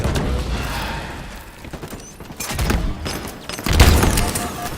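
Grenade blasts and gunfire in a Halo match, heard as heavy thumps and scattered shots at close range, with one loud boom near the end over continuous game noise.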